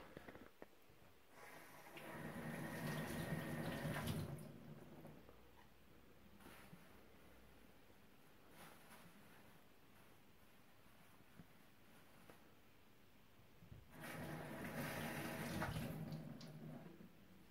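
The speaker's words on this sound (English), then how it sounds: "So the next step would be, of course, to give them a rinse." Elderflowers are rinsed in water, with two bursts of swishing and splashing separated by a long quieter stretch holding faint drips and light handling noise.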